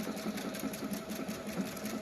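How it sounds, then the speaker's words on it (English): A Performance Icon sewing machine stitching backwards on a radiant stitch at slowed speed, a close, even mechanical whirr with a regular pulsing rhythm throughout, no talking. "Then I'm going to press Start Stop, and they're going to stitch backwards."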